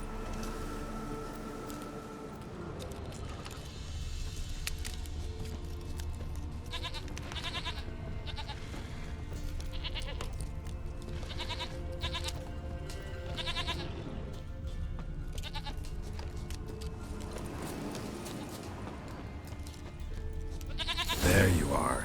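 A goat bleats in The Witcher 3: Wild Hunt, with repeated calls over game music and ambience and a louder bleat near the end.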